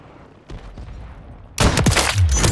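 Call of Duty shotgun and rifle gunfire: faint distant shots at first, then a sudden loud burst of rapid close shots with booming low impacts.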